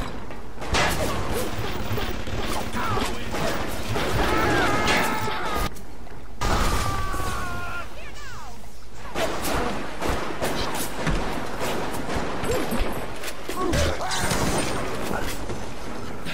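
BioShock gunfire against a group of splicers: repeated sharp shots and crashing impacts scattered across the stretch, mixed with mechanical clatter and game effects, with a brief quiet gap partway through.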